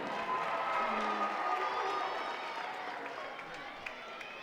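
Arena crowd at a Florida at Auburn college gymnastics meet applauds and cheers for Auburn gymnast Drew Watson as she steps up on floor; a steady, dense wash of clapping and cheering fills the hall while an announcer talks over it.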